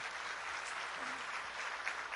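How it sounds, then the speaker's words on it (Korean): Clapping fills a church congregation's hall for a couple of seconds, with steady, dense applause from many hands throughout and no voices rising above it. "박수."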